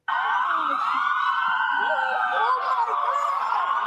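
Multiple police car sirens wail continuously and loudly, overlapping pitch sweeps of many cruisers racing toward a trampoline and adventure park during a chaotic teen takeover, with some crowd noise underneath.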